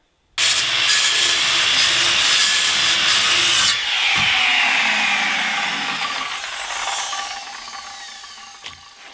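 Floor framing lumber for a 12x24 shed is sawn through, a loud continuous power-saw whine and rasp of blade in wood starting abruptly, shifting pitch midway, then winding down as the cut finishes.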